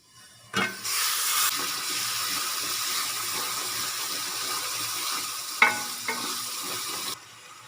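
Spice masala with tomato paste sizzling as it fries in a pan, a steady broadband hiss running nearly the whole time with a brief sharper crackle midway, close and fairly loud.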